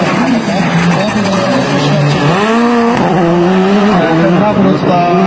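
Rally car on a tarmac street stage at the Kryterium Karowa 2021 event, turning tightly around a barrel; a loud revving engine rises and falls through the manoeuvre, with crowd noise and commentary running over it.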